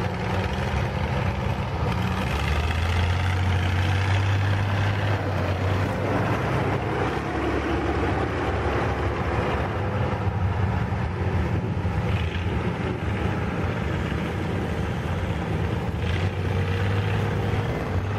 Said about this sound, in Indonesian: suara lokomotif PG Krebet Malang ini khas sekali